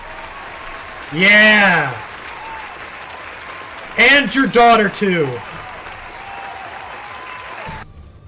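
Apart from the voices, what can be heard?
round of applause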